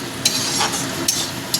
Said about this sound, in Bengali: ঢাকাটা খুলে মাঝে মাঝে একটু নেড়ে দিতে হবে